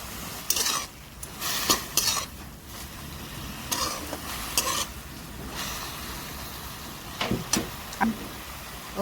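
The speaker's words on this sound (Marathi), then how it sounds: "याला आपण एकजीव करून घेऊया।" A spoon stirs a hadga flower vegetable dish in a pan, mixing in black masala and salt: irregular scraping strokes and sharp metallic clinks against the pan over a faint sizzle, close and clear.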